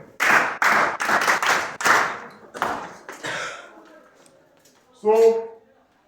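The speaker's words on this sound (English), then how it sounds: "Clap for him." Students in a physics classroom clap for a classmate in a few loud, separate claps, followed by a short tonal sound that rises and fades.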